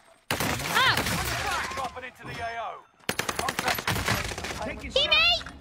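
Rapid automatic gunfire crackles in a shooter video game, two dense bursts of quick shots separated by a brief pause, with a person's voice speaking over the shooting.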